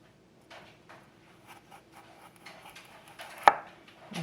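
A kitchen knife cutting a carrot on a cutting board, with faint, irregular soft taps and slicing strokes and one sharp, louder chop near the end, close by and quiet overall.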